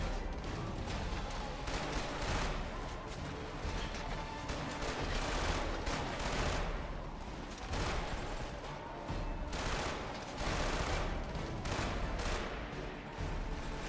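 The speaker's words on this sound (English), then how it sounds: "We'll try the little SMG, see how it feels." An SMG in Killzone 2 fires in rapid, sustained bursts, loud and close. The volleys arrive in dense clusters with short gaps between them.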